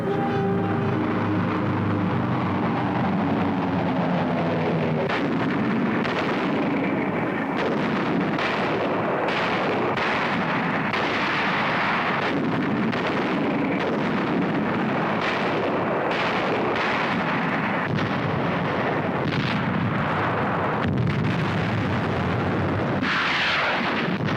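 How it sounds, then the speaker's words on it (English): Heavy sea and air bombardment of Iwo Jima ahead of the landing: a dense, continuous roar of artillery blasts and explosions, loud and rumbling throughout with no pauses. "By sea and by air, Iwo Jima is subjected to more than 70 days of bombardment"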